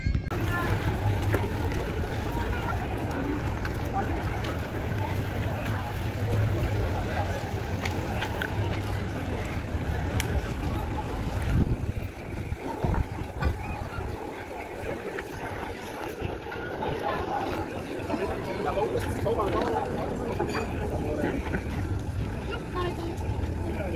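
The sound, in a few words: large ships on the water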